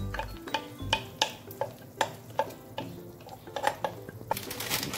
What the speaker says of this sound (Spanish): le añadimos el tomate natural